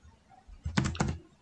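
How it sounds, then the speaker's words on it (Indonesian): Keys tapped on a computer keyboard while text is entered in a spreadsheet, a short burst of two quick clustered clatters close by, with no talk. "Kemudian kita pilih decision. Ya, kita ketikkan decision."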